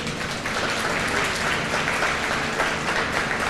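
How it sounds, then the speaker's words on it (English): An audience at a county luncheon program applauds in a steady, dense wash of clapping from many hands that fills the room and continues throughout. "Give him a round of applause."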